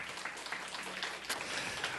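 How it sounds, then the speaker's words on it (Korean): A church congregation at a Wednesday worship service applauds, a soft, distant wash of clapping that stays steady and fairly quiet for about two seconds. "하나님께 영광의 박수 올려드리겠습니다"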